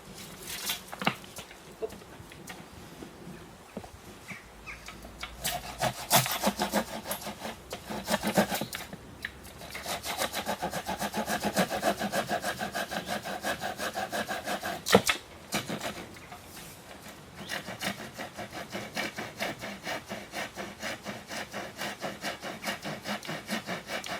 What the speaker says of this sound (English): trim this back with a wood saw